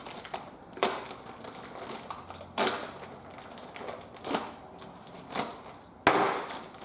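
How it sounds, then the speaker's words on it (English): Someone rummages through a big bag of bolts and hardware for a tree stand, making sharp metallic clinks and knocks at irregular intervals over a rustling background. The handling is close, with no talking. "Now we're going to open this big old bag"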